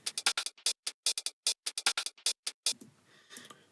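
A groovy second drum loop layered in music production: crisp, tightly spaced percussive hits in a syncopated pattern, loud and dry, ending in a fading tail.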